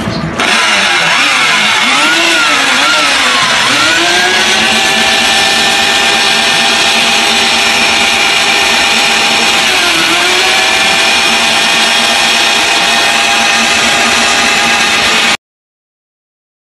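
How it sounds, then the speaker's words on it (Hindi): A motorised stirring machine churns a pot of haleem, a loud, continuous engine-like drone that starts up, wavers in pitch a couple of times and runs steadily before cutting off sharply. "थोड़ी देर में मशीन चलाएंगे, मशीन चलाते हैं मैं दिखाऊंगा"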